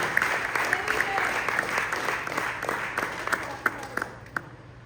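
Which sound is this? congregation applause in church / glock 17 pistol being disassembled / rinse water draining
congregation applause in church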